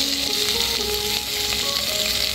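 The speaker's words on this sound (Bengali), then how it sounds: "চপ তৈরি করার জন্য আমি এবার পুরটা তৈরি করে নেব বাদাম ভাজা তেলে। প্রথমে দিয়ে দেব পেঁয়াজ কুচি," Chopped onion sizzles in hot oil left from frying peanuts, a loud, steady crackle close up with faint tonal squeaks as it is stirred, for an egg chop filling; no speech.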